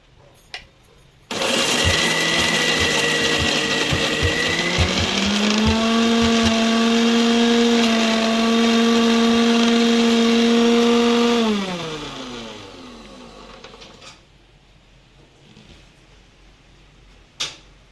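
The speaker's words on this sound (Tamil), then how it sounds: "ரெண்டும் மிக்சியில் போட்டு நல்லா அரைச்சிக்கிடுவோம்." Mixer grinder blending coconut for aviyal, a loud steady whirring motor roar running for about ten seconds, its pitch dropping as it spins down and stops, followed by quiet and a brief clack.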